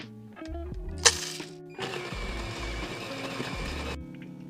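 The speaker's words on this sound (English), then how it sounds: "So this is a fully automated espresso coffee machine" Fully automated espresso machine brewing coffee at the press of a button: a clunk and brief grinding burst, then a steady two-second hum of pumping and brewing with soft mechanical thunks before and after, close and fairly quiet.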